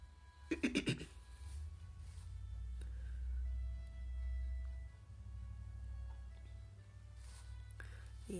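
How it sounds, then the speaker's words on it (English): A quick burst of harsh throat clearing, four or five rapid rasping pulses close to the mic, followed by a low steady hum. "that was just me clearing my throat because of this darn cold"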